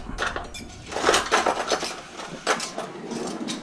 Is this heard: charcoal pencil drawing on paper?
no